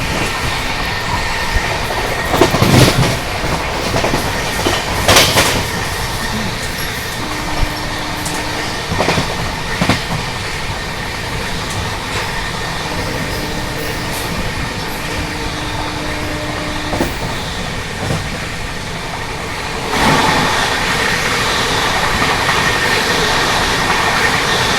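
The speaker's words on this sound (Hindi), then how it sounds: "सामने से आ रही है संपूर्ण क्रांति एक्सप्रेस।" Sampoorna Kranti Express rushing past, loud continuous rumble with rhythmic clickety-clack of wheels over rail joints and occasional squeals, close and steady throughout.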